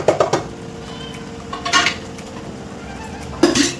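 A spoon clinks and scrapes against a bowl as red chilli, coriander, cumin powder and turmeric are mixed for a fish curry, with a few distinct knocks spaced across a quiet stretch and nobody speaking.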